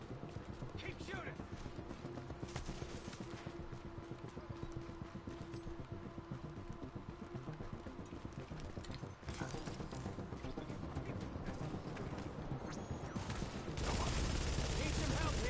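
Rapid rhythmic gunfire from The Division rattles steadily at a low level behind game sounds and voices, a dense burst pattern running throughout and ending in a louder noisy swell.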